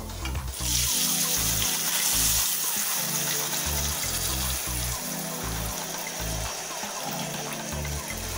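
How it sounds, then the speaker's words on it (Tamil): Tamarind water pours and sizzles in a hot pan, a steady hissing splash that continues under a low, rhythmic background beat. "புளி தண்ணி அதை சேர்த்திக்கலாம்."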